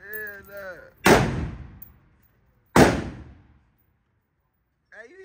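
Two loud, sharp gunshots ring out at a shooting range about a second and a half apart, each trailing off into a long echoing decay, with a voice talking just before and faintly after.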